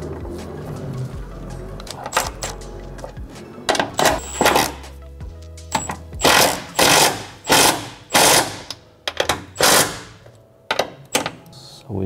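Tightening the top mount of a Vicrez air suspension strut on a Dodge Challenger, heard as a rapid series of loud, close metallic ratchet clicks and bursts, coming in rhythmic pulses with short gaps between them.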